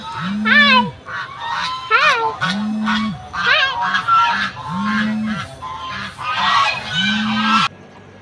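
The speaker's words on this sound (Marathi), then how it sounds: "हे बघा बदक" Ducks honk and quack repeatedly in loud, close bursts at a temple, several birds calling over one another in a noisy, rhythmic chorus.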